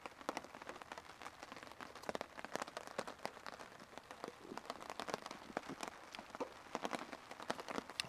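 Rain patters steadily on a taut tarp over a camping tent, dense scattered drops striking close by with sharper taps throughout, no voices.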